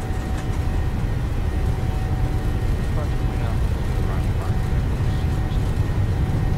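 Airliner engines roar at takeoff thrust on the runway in Microsoft Flight Simulator 2020, a steady, dense low rumble with a faint high whine running unbroken throughout.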